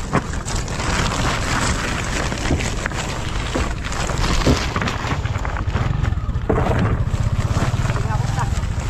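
A boat heading to Real, Quezon, in bad weather, with a steady rushing drone of engine and wind noise and voices talking underneath throughout.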